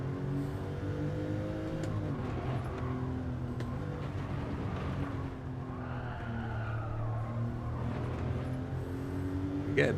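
Race car engines in a sim racing game with a Porsche and a Civic, a steady, loud engine tone climbing and dropping in pitch, with tire skids partway through.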